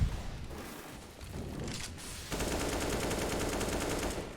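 Rapid automatic gunfire sprayed through smoke in the game CS:GO, dense bursts of shots that start, briefly thin out, then resume as a sustained loud spray.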